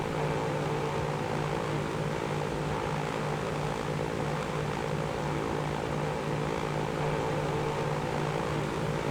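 An airplane flies in the Transport Fever 2 video game, a steady propeller engine drone with a constant low hum, continuous and even throughout.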